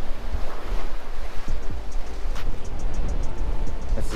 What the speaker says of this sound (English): So we can fish this, which is pretty wavy. There's a bunch of waves.